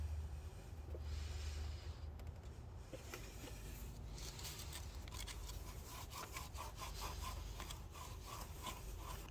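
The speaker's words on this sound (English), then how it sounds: "I'm just gonna use the scuff pad, and you can actually get a proper tool to clean those" Corrosion being scrubbed off the battery terminal posts of a 1999–2004 Mustang with a scuff pad, making a steady, faint rasping rub of fast back-and-forth strokes over a low background hum, with no talking.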